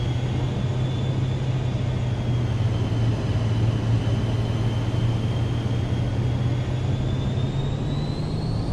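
Vision Jet engine at takeoff power in Microsoft Flight Simulator, a loud steady jet roar with a sustained whine that holds throughout.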